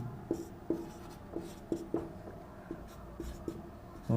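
Pen or chalk writing during a Class 10 maths lesson on real numbers, heard as a series of short, evenly spaced stroke taps and scratches at close range, fairly quiet, with no talking.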